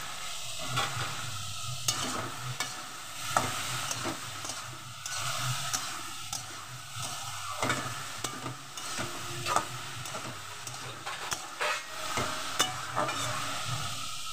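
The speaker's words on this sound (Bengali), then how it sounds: "এটাও আমি ভালো করে ভেজে নেব।" Greens with turmeric fry in a pan, a steady soft sizzle broken by repeated scraping clicks of stirring, close and fairly quiet.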